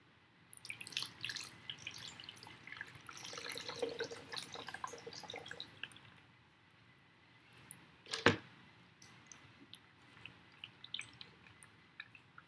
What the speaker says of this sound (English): And we're just going to wait for the water to stop dripping.